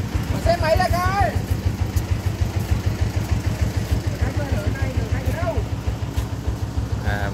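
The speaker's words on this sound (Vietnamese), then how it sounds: "Xe máy ra coi." A motorcycle idles close by in a narrow lane at a site where bricks are being delivered, its engine thumping in a fast, even pulse while people talk over it.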